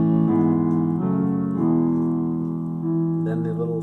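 Solo piano plays the opening chords of a song, rolling an E-major chord like an arpeggio before stepping down to A, sustained and close with a held chord change near the middle.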